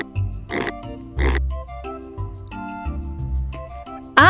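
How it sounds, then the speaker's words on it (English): An animated playful pig grunts and oinks in a series of short, close bursts, with brief pauses between them. "I see a playful pig looking at me."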